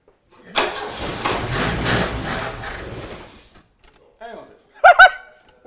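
An engine cranks and starts up loud and rough for about three seconds, then cuts out, followed by an excited shout from a person nearby.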